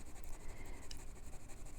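A Benu fountain pen laying down an ink swatch on paper, a soft continuous scratchy nib stroke with faint rhythmic scraping, close and alone.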